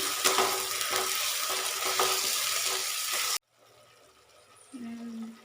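Onion, garlic and ginger paste sizzles steadily in a hot pan, a dense close frying hiss with stirring scrapes, then it cuts abruptly to a quiet room with a faint low tone.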